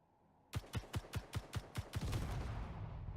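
Gunfire in the Space Engineers video game: eight sharp, evenly spaced shots in quick succession, followed by a sustained rumbling blast as something explodes.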